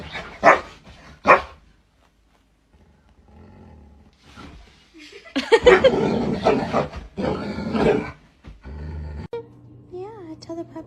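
A puppy barks in two sharp, close bursts, then scattered yips and growly vocal sounds follow amid household noise, with people talking softly nearby.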